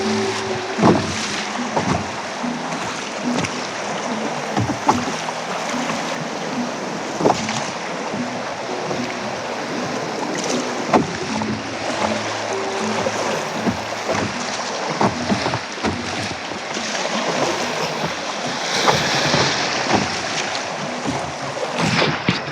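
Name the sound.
fast moving river water during canoe trip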